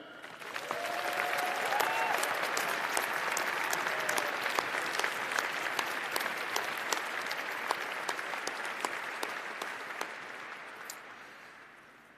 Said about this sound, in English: please join me in giving a huge round of applause to our inspirational honorary awardees